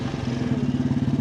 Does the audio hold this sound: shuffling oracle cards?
no